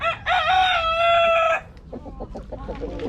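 A rooster crows loudly up close, then several chickens cluck and murmur nearby.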